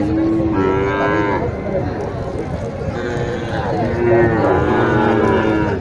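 A Sahiwal heifer at the Mataji cattle market in Naogaon lets out loud, drawn-out moos, one after another, close by, while people talk over the bustle.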